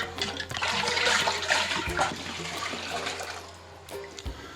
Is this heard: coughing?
no